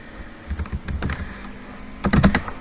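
Keys on a computer keyboard clack in short uneven clusters while details are typed into a customer support form, with a denser flurry near the end, close and crisp over faint background hum.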